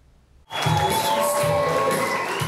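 A crowd at Mike Pence's campaign rally in Bozeman bursts into loud cheering and shouting after a quiet moment, sustained and enthusiastic to the end.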